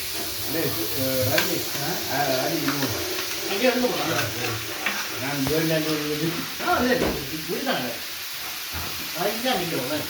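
Onions sizzle and crackle in hot oil in a pan for a meat curry, a steady frying hiss with occasional stirring, while people talk loudly over it throughout.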